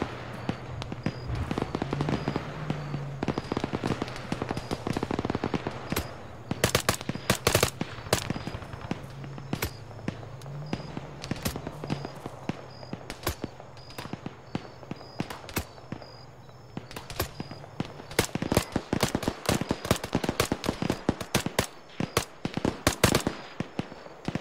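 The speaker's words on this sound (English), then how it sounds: "Shooting." Video game gunfire from a military campaign mission, sharp shots and rapid bursts from near and far spread across the scene over a low engine-like drone, with irregular clusters of shots and quieter gaps in between.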